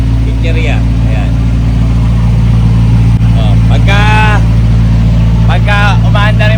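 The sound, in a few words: noisy boat engine running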